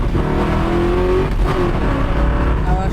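A restored Chevrolet Camaro roars as it accelerates hard, the loud engine note climbing and shifting at close range across the stretch, with tire and road noise underneath.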